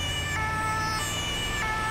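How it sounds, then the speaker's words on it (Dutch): A wailing ambulance siren from the GTA 5 video game sounds loud and continuous, its steady tones sweeping and overlapping without pause. "Dat betekent ook dat de sirene weer aan kan."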